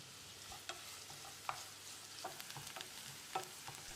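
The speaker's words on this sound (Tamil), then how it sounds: "இதை போட்டு செவந்து வர்ற அளவுக்கு வதக்கிடலாம்." Soft frying sizzle of chopped onions sautéing in a pan with occasional stirring clinks and scrapes, fairly quiet and steady throughout, no voices.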